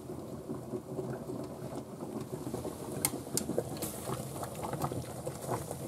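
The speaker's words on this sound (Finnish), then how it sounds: "Potut kiehuu siinä mukavasti" Potatoes boiling in a pot on a stovetop, a quiet continuous bubbling and sputtering with scattered sharper pops throughout.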